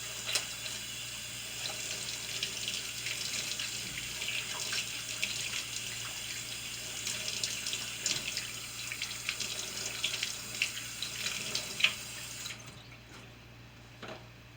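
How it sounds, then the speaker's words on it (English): A kitchen tap runs steadily into a sink while hands are washed during peach cobbler preparation, with a continuous hissing splash and small irregular drips and splatters, close by, stopping abruptly near the end. "I'm washing my hands."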